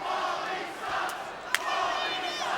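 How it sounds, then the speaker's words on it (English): A wrestling arena crowd at the 2001 WWE Invasion event roars with loud, sustained jeering and shouting that swells and dips, with one sharp crack partway through. "This crowd getting all over Paul Heyman"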